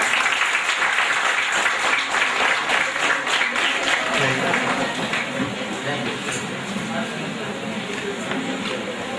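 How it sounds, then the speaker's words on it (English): Audience at a nanotechnology lecture workshop applauding the chief guest, a loud continuous clapping that fades somewhat toward the end, with voices mixed in beneath. "we'll conclude this workshop with a great amount of applause"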